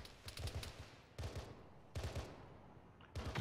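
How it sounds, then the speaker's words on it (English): Video game gunfire in Arma 3, several short bursts of rapid shots separated by brief pauses, fairly loud and close. "Shots from the southwest."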